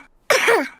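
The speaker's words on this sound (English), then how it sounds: "Oh dear, Pedro has a cough." A cartoon character gives a single short, voiced cough, close and fairly loud after a brief silence.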